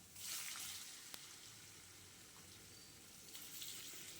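Cut paneer pieces frying in hot oil in a pan, coated with turmeric, giving a steady soft sizzle that swells at the start and again near the end.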